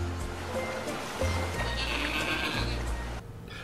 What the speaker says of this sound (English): You were expecting a horse, but you got a goat, and no one wants a goat.